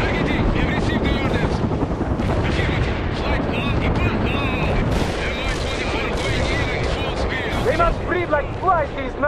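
Helicopter rotors and battlefield noise in the real-time strategy game World in Conflict, a dense continuous roar with cannon and gunfire bursts layered over it, loud throughout, with game voices speaking.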